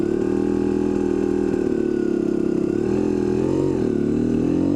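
A Kawasaki KDX250 two-stroke motorcycle engine running steadily while riding with the front brake dragging, a loud, continuous buzzing drone that dips and rises slightly toward the end.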